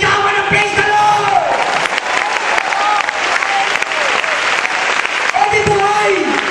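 Church congregation applauding loudly and continuously, with shouts and cheers mixed into the clapping and voices rising over it at moments.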